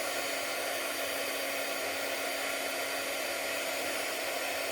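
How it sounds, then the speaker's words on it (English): A heat tool with ceramic ends used for paper crafting, switched on and blowing a loud, constant hiss of rushing air with no pauses. "I'm going to turn this on. Sorry, it's going to be a little loud."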